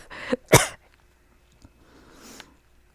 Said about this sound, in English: Why am I coughing?